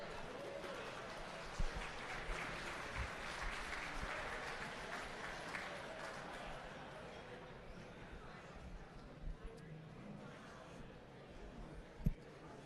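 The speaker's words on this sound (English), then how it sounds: "Yeah, big round of applause." A crowd applauds during the Night of Champions ceremony at Ohsweken Speedway, a soft, fairly distant wash of clapping with a voice talking over it.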